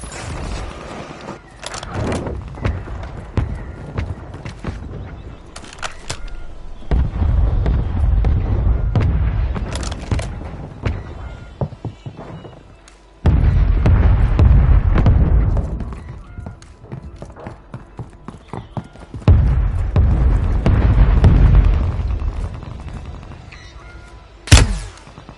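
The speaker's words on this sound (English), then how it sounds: "Incoming. Missile strike on a nearby target." Heavy missile strike explosions in Call of Duty: Warzone, a run of deep, loud booming blasts with rumbling low end arriving in several waves, separated by quieter stretches of scattered in-game noise and a sharp crack at the end.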